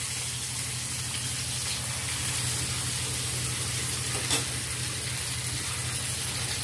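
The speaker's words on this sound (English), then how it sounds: "So first of all, I need to fry these fish. First I will fry this." Marinated fish frying in mustard oil makes a steady, even sizzle close by that continues without break or speech.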